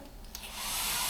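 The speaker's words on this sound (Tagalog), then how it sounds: "Ay, nag-blower." A hair dryer starts up and blows, its airy whoosh swelling from a faint start to a loud, steady rush within a second.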